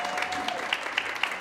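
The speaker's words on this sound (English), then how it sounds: "Big round of applause for both of them." Applause from the audience at a small business-pitch community event fills the room as a steady wash of clapping, with a few sharper claps standing out near the end.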